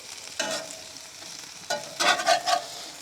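Vegetables and potatoes are stirred with a spatula on a barbecue, giving a steady soft sizzle broken by a few scraping, shuffling strokes, close and alone with no talk.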